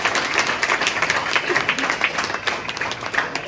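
An audience claps loudly for the daughters after a play staged by the Jainam Group in Mhow. The applause is continuous and dense, with many hands close and far and a brief hint of voices in the crowd.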